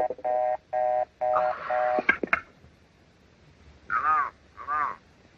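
Telephone tones in the 1948 film Sorry, Wrong Number: a run of regular ring pulses, then a few sharp clicks and two warbling tones, set against a quiet background.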